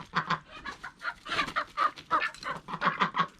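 Several chickens squabble and cluck loudly in a farmyard pen, a dense run of sharp, agitated squawks and clucks repeating rapidly throughout, close by, with a faint crow mixed in.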